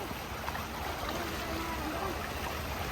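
Steady rushing water noise of a strong river current, a constant broad wash with faint gurgling, heard close and without pause.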